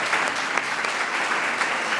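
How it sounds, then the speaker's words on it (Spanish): An audience claps warmly and steadily, a dense crowd applause filling the room without a break. "Un aplauso para Cecilia, por favor"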